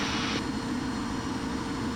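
Cirrus Vision Jet on takeoff, its engine roaring steadily and loud throughout with a brief brighter hiss at the start, no talk over it.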